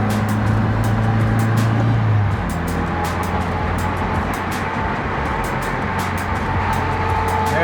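Steady drone of a car cruising at about 40 in third gear with an aftermarket Perrin oil cooler, heard from inside the cabin, loud and even with a low engine hum and road noise.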